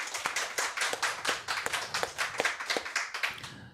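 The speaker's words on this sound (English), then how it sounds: "If we can give them one more round of applause for what they were able to do here." An audience claps for the presenters at a women's soccer league finals event, a steady moderately close round of applause that keeps up across the whole stretch before thinning at the end.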